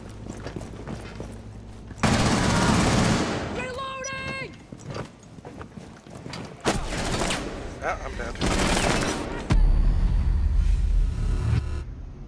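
Bursts of gunfire rattle in Rainbow Six Siege on the Chalet map, several loud fusillades and a rapid automatic burst spread across the stretch, with players talking over the shooting.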